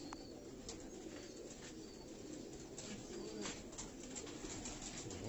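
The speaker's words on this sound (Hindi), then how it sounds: "तो ये दोस्तों हाजी मोहम्मद यूसुफ साहब के वो रानी वाले कबूतर मैं ज़रा बाहर लेके आया हूँ।" Haji Muhammad Yousuf's Rani pigeons cooing outdoors, a steady low murmur of calls with a few faint chirps, moderately close and without talk.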